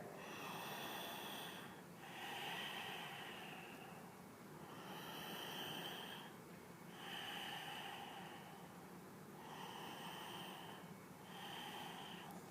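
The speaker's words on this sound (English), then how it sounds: "And we'll take a couple of breaths here." Slow, steady breathing during a yoga stretch: several long, faint, airy inhales and exhales in an even rhythm, close up and alone.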